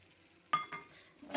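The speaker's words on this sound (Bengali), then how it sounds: "দিয়ে দিচ্ছি ভাজা চিংড়ি মাছগুলো।" Fried shrimp are tipped into a pan of cooking pumpkin, giving two soft clinking drops followed by a faint, brief sizzle in a quiet kitchen.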